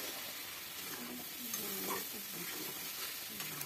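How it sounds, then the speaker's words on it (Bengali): A poppy-seed paste curry with milk and cauliflower is stirred and fried in a pan, giving a soft steady sizzle with scraping spoon strokes at close range and no talking. "এবারে দুধটা দিয়েও কিন্তু আমি একদমই কষিয়ে নেব ভালো করে"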